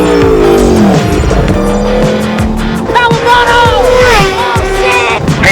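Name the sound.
Aprilia RSV4 Factory superbike with LeoVince exhaust revving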